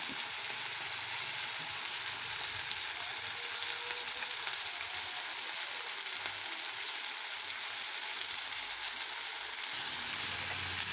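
Ivy gourd pieces fry in hot oil with a steady, dense sizzle that hisses continuously and evenly throughout, with no talk.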